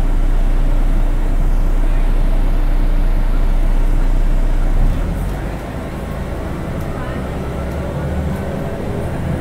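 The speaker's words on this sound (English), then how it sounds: "Engine sounds." A Transperth bus on route 906 from Fremantle to Perth rumbles loud and steady from inside, its deep engine drone easing down about halfway through as road noise continues.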